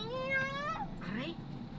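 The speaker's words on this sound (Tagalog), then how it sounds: "Meow." A cat meows twice in quick succession on a street in the Malate–Pasay area of Manila, with rising then falling cries, close and clear over steady background hum while people talk nearby.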